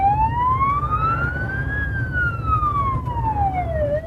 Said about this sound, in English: you heard the siren